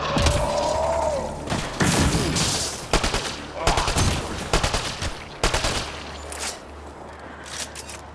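Bursts of enemy gunfire in the sci-fi shooter Mass Effect Andromeda, rapid cracking volleys and thuds coming in clusters with short gaps between them.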